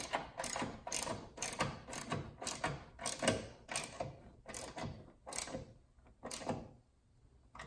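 A ratchet tightens the torque mount bolt on a 2018–2022 Honda Accord, giving quick, close, loud clicking strokes in a regular rhythm that slows and spaces out toward the end, with no talk.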